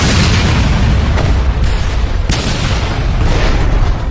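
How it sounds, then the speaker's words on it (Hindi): A loud, sustained roar of noise with sharp bursts cutting through, a plane crash explosion and its rumbling aftermath, close and intense. "लेकिन अगले ही पल पंखा जमीन से जा टकराया और एक भयानक विस्फोट हो गया।"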